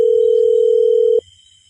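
A telephone gives a steady single-pitch dial tone, loud and clean, that cuts off abruptly after a little over a second, leaving faint low background noise and no voices.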